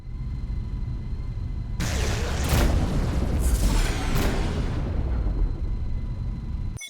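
Spaceship broadside cannons firing in a space combat video game set in the Aphrodite Sector, a heavy rumbling barrage of booming blasts that starts abruptly and holds loud for about five seconds, with several sharper bursts in the middle, then cuts off.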